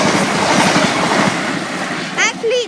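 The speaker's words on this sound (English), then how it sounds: "coming now in onto platform 1, the Great Northern." A Great Northern Class 379 electric train rolls into platform 1 at Waterbeach station with close, rumbling clickety-clack wheel noise, ending in brief squeals of the wheels and brakes.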